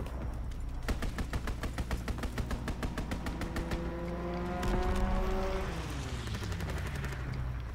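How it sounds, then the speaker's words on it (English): Enemy aircraft strafing run in Call of Duty WW2: loud, rapid bursts of machine-gun fire with sharp repeated cracks, joined midway by a rising engine roar and whine as the plane sweeps past, all fairly close with no talk. "Enemy strafing run inbound."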